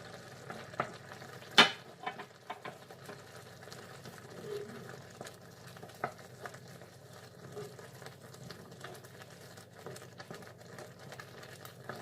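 A spoon stirs a spiced sauce for beef kefta tajine in a pan, a soft scraping and sizzling with scattered clinks, one sharp knock near the start, quiet and close.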